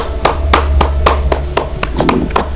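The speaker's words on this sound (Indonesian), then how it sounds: "Tepuk tangan untuk semuanya" Children in a classroom clap for the quiz winners in a steady, even rhythm of distinct claps, roughly four per second, close and fairly loud, with no one speaking.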